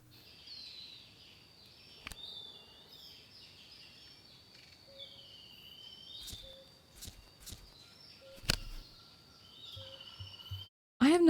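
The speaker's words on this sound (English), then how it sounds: "The background sound consists of birds" Soft bird chirps and warbling calls form a faint nature backdrop in the Papercut Art Gallery puzzle game, continuous and distant, broken by a few sharp clicks and taps.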